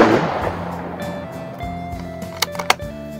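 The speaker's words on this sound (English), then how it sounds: "have to bear with that gunfire in the background" A few sharp distant gunshots crack in quick succession over a steady mechanical hum, faint and far off.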